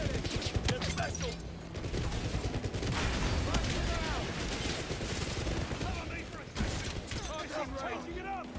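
Dense, continuous gunfire from the video game 007 First Light: rapid volleys of shots and impacts in a heavy, sustained barrage, with game voices mixed underneath.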